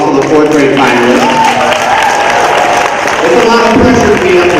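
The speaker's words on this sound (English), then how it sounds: "Let's do a round of applause not only for the fifth graders, but also the fourth grade finalists" Applause for fourth and fifth grade spelling bee finalists at a school event: a steady round of crowd clapping throughout, with a voice talking over it.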